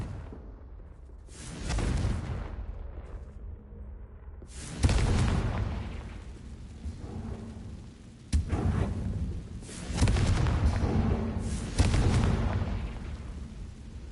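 Confringo fire spell blasts in Hogwarts Legacy, several separate booming explosions spaced a few seconds apart, each a loud burst trailing off into rumble, with quiet gaps between.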